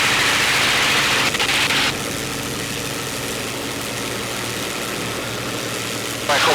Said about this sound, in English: cycle your prop one more time